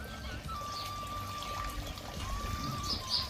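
Water runs from a garden hose at a farmhouse garden being made over with a fountain, a steady, soft splashing trickle that continues throughout at moderate distance.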